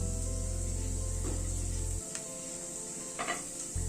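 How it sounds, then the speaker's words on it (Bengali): Garlic and two cloves fry together in a pan, giving a steady, fairly faint sizzle with a few brief stirring scrapes and clicks toward the end; no one talks. "লবঙ্গটাও রসুনের সাথে একটু ভেজে নিচ্ছি।"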